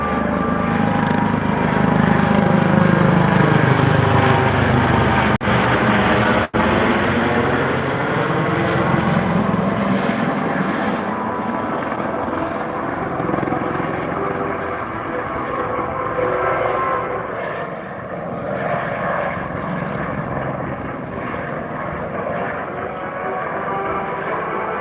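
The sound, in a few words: MH-65 Dolphin helicopter flying past at airshow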